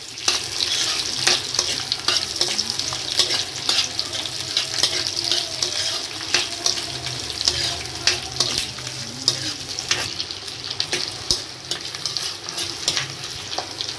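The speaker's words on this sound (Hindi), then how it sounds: "ये देखिए तेल में डाल रही मैं।" Onions frying in refined oil in a kadai, a steady loud sizzle throughout with occasional stirring scrapes, close up and with no voices.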